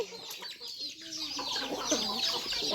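Chickens cluck and squawk in a flurry while chicks are being caught, with busy overlapping bird calls filling the yard and faint bits of voice underneath.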